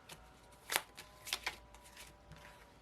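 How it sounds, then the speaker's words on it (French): A deck of tarot cards is shuffled close by in a few soft, crisp riffles and taps, faint and irregular with no talking. "vous ne voyez pas les cartes forcément quand je fais mon mélange"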